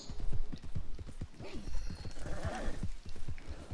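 Horse hooves clip-clop in a quick, even rhythm in the Red Dead Online video game, close and clear, with a short whinny rising partway through.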